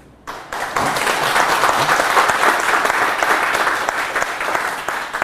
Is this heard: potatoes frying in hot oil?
no